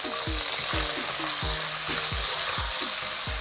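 Pasta and sausage stir-frying with garlic in a pan, a steady close sizzle broken by repeated scraping strokes of a utensil at a regular pace.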